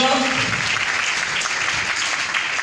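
A crowd at a gathering claps to welcome a guest, a dense continuous patter of hands heard under a voice at the start, the applause holding steady to the end.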